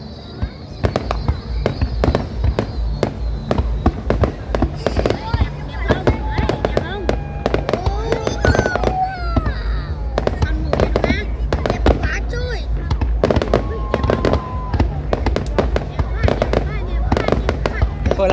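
Fireworks for the 190th anniversary of Thanh Son District in Phu Tho go off in a dense, continuous barrage of sharp cracks and booms, with crowd voices chattering throughout.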